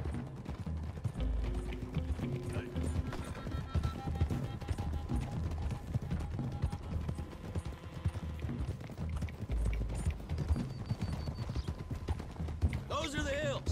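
Horses' hooves clip-clop steadily in the video game Red Dead Redemption 2 as riders travel together, a continuous rhythmic patter under ongoing talk and background music.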